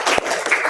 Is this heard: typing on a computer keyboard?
no